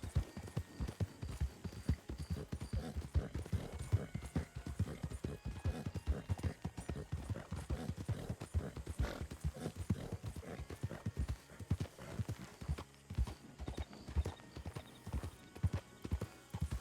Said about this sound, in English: I can keep hearing horses behind me.